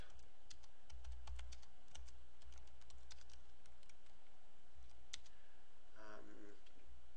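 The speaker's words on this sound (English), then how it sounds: "type in a little something about yourself" Someone types on a computer keyboard while writing a plain HTML page. Quick, fairly quiet bursts of key clicks come in an uneven rhythm, with brief pauses between them and a faint rustle near the end.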